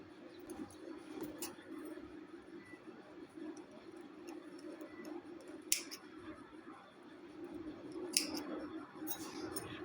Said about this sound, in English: Tie all the threads together and cut off the extra thread.